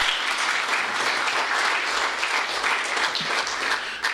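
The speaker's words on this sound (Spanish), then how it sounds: "vamos a recibirlo con un aplauso" A church congregation at a Sunday morning service bursts into steady, full applause, a dense wash of many hands clapping throughout without a break.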